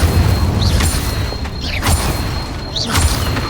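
A fire spell is cast in the video game Hogwarts Legacy, giving a loud, rumbling whoosh with repeated bursting booms and crackling pops. The sound is dense and close, with several flaring surges across the short stretch.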